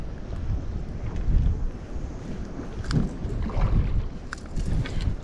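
Gusty wind buffets the microphone outdoors on open water while fishing for smallmouth bass, a constant low rumble with fluctuating gusts and faint splashes.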